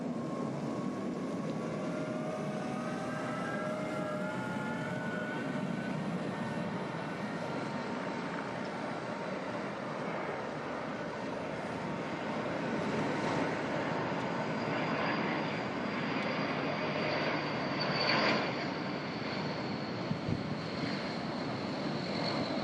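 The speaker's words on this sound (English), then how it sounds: "it's actually a smaller plane, but it is making a Sarajevo approach into the airport" A small propeller plane on approach into Sarajevo airport, its engine drone steady and fairly close throughout, with a rising whine building toward the end and no talking.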